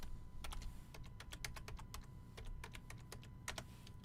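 Rapid, uneven computer keyboard typing in bursts of clicky keystrokes, close and fairly loud over a steady low background hum, with no talking.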